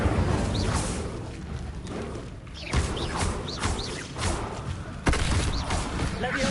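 Incendio fire spells are cast repeatedly during combat in Hogwarts Legacy, several thumping whooshes and bursts of flame amid busy battle noise, with chirping effects over the din.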